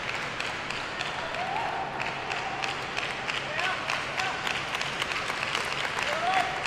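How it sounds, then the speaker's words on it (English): Crowd applause echoing through a table tennis stadium during a semifinal at the Asian Team Championships, steady sustained clapping with a reverberant roar throughout. "The claps are resounding. You can hear them echo across the stadium"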